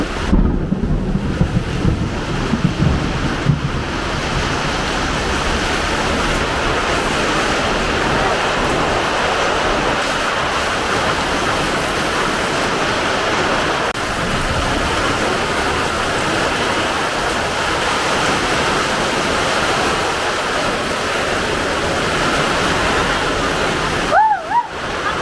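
Heavy rain pours down steadily in a thunderstorm, a dense, unbroken roar that stays loud and close for the whole stretch, with a brief tonal sound near the end.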